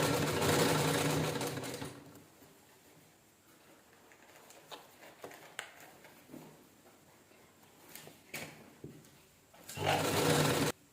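A sewing machine runs in loud, fast bursts at the start and end while stitching piping onto a blouse, with quieter handling clicks and taps in between.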